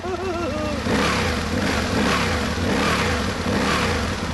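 A 997cc liquid-cooled V-twin four-stroke engine on an Aprilia RSV1000 Tuono motorcycle revs up from a wavering idle into a loud, sustained, throaty roar, heard up close.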